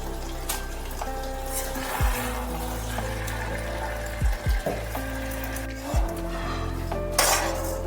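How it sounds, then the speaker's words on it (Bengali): A metal spoon stirs Bengali chachchari with a hilsa fish head in a cooking pot, giving scattered clinks and scrapes against the pot over a steady kitchen hum, with no one talking. "একসাথে করে এবার ভালোভাবে নেড়ে নেওয়া হচ্ছে চচ্চড়ি।"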